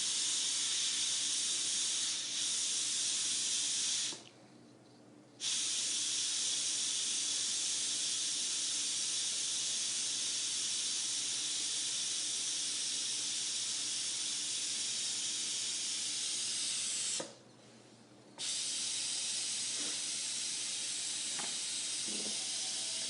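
A pressure cooker making chicken noodle soup vents steam in a loud, continuous close hiss that drops out briefly twice before resuming, with no speech.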